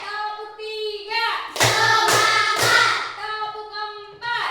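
Children in a classroom play a clapping game, with voices chanting between three sharp, evenly spaced group claps in the middle, and more chanting on either side.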